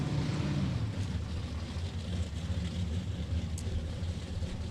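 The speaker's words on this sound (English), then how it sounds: "A couple of naturally aspirated big block classic Chevys will be next." Naturally aspirated big block classic Chevy drag cars, including a 1968 Camaro, rumble steadily at a drag strip, a loud, continuous low engine drone holding throughout without talk.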